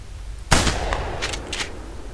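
A single loud shotgun blast in The Hunter Primal, a sharp close boom followed by a short ringing tail and a few faint clicks of the weapon being handled.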